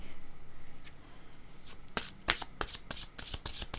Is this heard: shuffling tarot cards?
yes